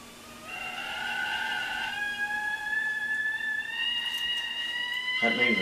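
A kettle on a wood-burning cook stove whistles as the water boils, a steady shrill tone that rises slightly in pitch and holds throughout, with a brief clatter at the very end.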